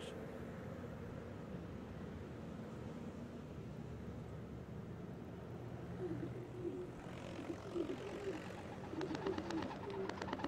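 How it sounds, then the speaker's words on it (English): Feral domestic pigeons coo among city buildings, low soft repeated calls that grow clearer toward the end, set against a steady hum of distant traffic and aircraft. "In cities throughout the world, domesticated pigeons have escaped and found a suitable niche among man-made buildings."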